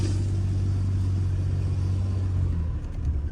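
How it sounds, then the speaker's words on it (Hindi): A car's engine idles steadily right after starting, a loud, close, continuous low hum and rumble that dips slightly near the end, with no talking. "गाड़ी स्टार्ट हो गई है।"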